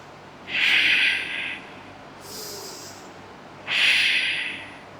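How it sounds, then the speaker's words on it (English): Two strong, deep breaths during a yoga exercise, each a long rushing exhale through the nose or mouth, separated by a softer breath between them, close and loud with no talking. "Breathe again. Deep breathe and deep breathe out."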